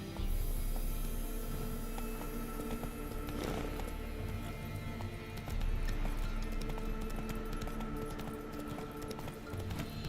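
Roach the horse gallops in Witcher 3, steady rhythmic hoofbeats clopping close and continuously over a low ambient game backdrop, with a brief thud partway through.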